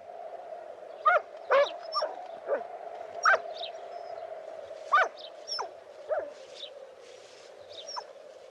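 A dog barks and whimpers in a 1970s drama, giving short, sharp yelps and whines in irregular bursts over a steady low hum, with no talking.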